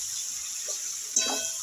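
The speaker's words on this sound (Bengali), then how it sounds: "এইবার আমি দিয়ে দেবো এই যে ভেজে রাখা চিচিঙ্গা আর আলু, দিয়ে আমি একটু নাড়াচাড়া করে নেব মশলার সঙ্গে" Fried snake gourd and potatoes stirred into a spice paste in hot oil: a steady, faint sizzle, then a short scraping clatter of stirring near the end.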